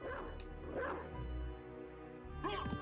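Wolf form in Castlevania: Symphony of the Night giving short yipping barks and whimpers in a few bursts, mixed with game music and effects.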